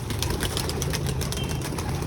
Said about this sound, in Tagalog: Ayan yung mga ibon.